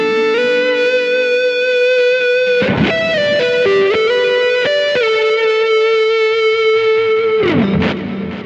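Sustained distorted electric guitar notes on a Kemper Profiler, with a long delay and reverb trail, held tones shifting pitch a few times, loud and alone.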